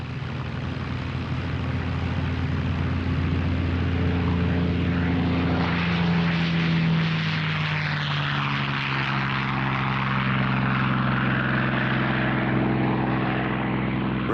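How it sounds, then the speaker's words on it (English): A Spitfire fighter with a Rolls-Royce Merlin engine flies past, a loud, continuous propeller-engine drone that holds steady with shifting tones, rising in roughness midway as it passes close overhead. "Rolls-Royce Merlin engines fitted to Spitfires and Hurricanes were the key to their great performance."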